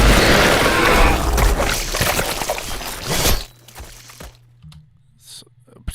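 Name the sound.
gurgly horror creature sound effect made with Reformer plugin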